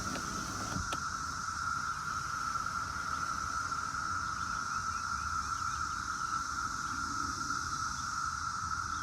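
Brood X cicadas drone outdoors in a steady, even, high-pitched hum that holds unchanged throughout, fairly faint but continuous, with a single brief click near the start.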